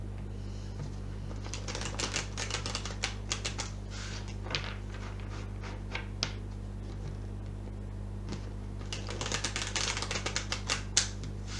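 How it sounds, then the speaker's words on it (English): Tarot cards being gathered up from a table, a run of quick, irregular clicks and soft slaps of card on card, close and fairly crisp over a steady low hum. "Oops, pick all the cards up."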